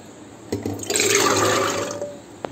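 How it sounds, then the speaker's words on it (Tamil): A short clunk, then half a glass of water splashing into a pot of soaked chickpeas for about a second and a half, close by, ending with a faint tap. "ஒரு 1/2 glass தண்ணி ஊற்றிக்கலாம்."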